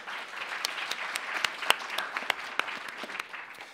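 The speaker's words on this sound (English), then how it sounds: "A round of applause, please." A conference audience at Knowledge to Action 2016 welcomes panel guests with steady applause, a moderate crowd of clapping hands with a few sharper, louder claps standing out near the front.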